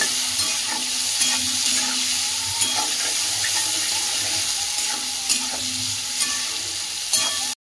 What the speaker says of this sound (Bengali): ভালো করে সয়াবিনটাকে ভেজে নেব